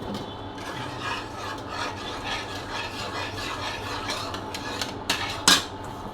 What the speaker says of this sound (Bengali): আলুটা বেশ গরম, আমি একটু মাখিয়ে নিচ্ছি।